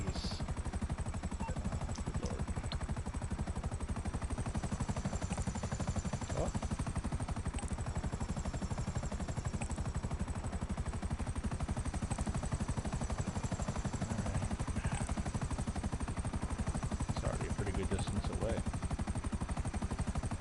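A helicopter's rotors thrum steadily and continuously in GTA Online, a constant mechanical drone at moderate volume with no pauses.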